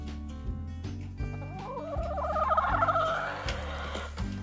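A hen on a homestead gives a soft, warbling run of clucks over a low, steadily pulsing hum; no one speaks.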